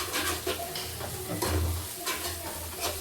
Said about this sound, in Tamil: காளானையும் சேர்த்து வதக்குறோம்.